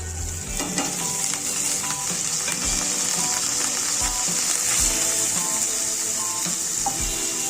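Crushed garlic, whole cumin, dried red chili, nigella seeds and chopped onion sizzle and fry steadily in hot oil for Bengali red amaranth greens, with occasional stirring knocks beneath the continuous loud crackle.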